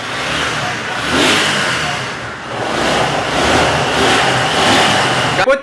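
A second-hand motorcycle engine being started and revved, rising and falling in loud revs close by, with some voices in the background.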